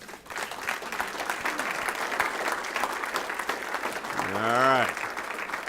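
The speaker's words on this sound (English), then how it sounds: "we're going to give her a round of applause for doing the right thing" An audience claps steadily through a presentation on the emerald ash borer. A voice speaks briefly over the applause near the end.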